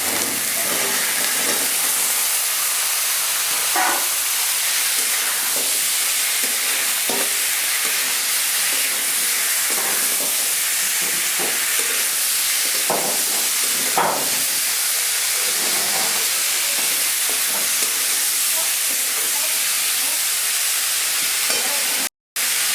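Hot pan of green garden tomatoes being cooked for tomato posto, giving a loud, steady sizzle and steamy hiss throughout, with occasional stirring clicks close by and no talking.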